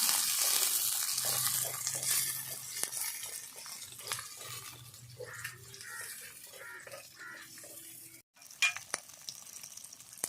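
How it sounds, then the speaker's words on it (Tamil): Chopped garlic and onion sautéing in a pan for a pepper curry, a steady frying sizzle with occasional scraping and stirring clatter, fairly close, with a brief drop to near silence toward the end and no talk. "இப்போ எல்லாத்தையும் நல்லா வந்து செவந்து வர அளவுக்கு நல்லா வதக்கி விட்டுக்க வேண்டியதான்"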